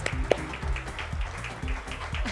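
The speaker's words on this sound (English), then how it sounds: "Can we have a huge round of applause for all our winners?" Faint, steady applause for prize winners at a Mumbai roadshow stage event, soft clapping spread evenly under a low, rhythmic musical bass in the background.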